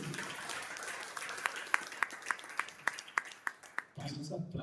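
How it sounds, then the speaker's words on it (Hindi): A classroom audience claps in a regular, rhythmic beat of sharp, evenly spaced hand claps over a steady wash of applause, loud and close, ending abruptly. "जोरदार ताली बजाइए।"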